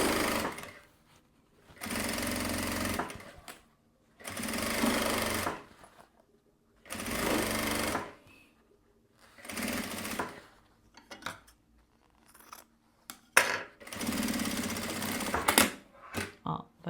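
A sewing machine stitches bias binding around the edge of a fabric panel in about six bursts of rapid whirring, each lasting one to two seconds, with quiet pauses and small handling clicks between them.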